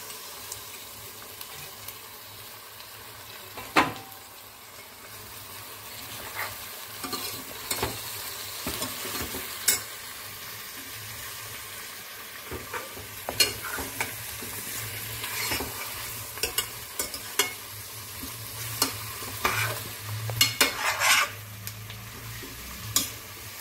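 Ash gourd pieces fry in oil with ginger paste and asafoetida under a continuous soft sizzle, while a spoon repeatedly scrapes and clacks against the pan in irregular bursts over a faint low hum.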